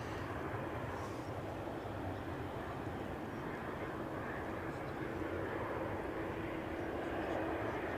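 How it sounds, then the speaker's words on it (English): Air France Embraer jet taxiing at a windy Edinburgh Airport, a steady distant engine whine and rumble holding evenly throughout, with wind noise and no speech. "I'd like to say I think it is that Air France Embraer"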